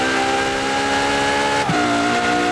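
A Ferrari LaFerrari in Forza Horizon 4 holds a loud, steady high-revving engine note with stacked harmonics, broken near the end by a quick gear change dip before the whine resumes.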